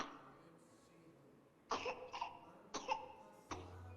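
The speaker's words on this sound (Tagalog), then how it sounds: "Inuubo, no?" A sick child coughs in a few sharp bursts, two quick coughs, then another pair, then a single one, after a quiet start with faint background noise.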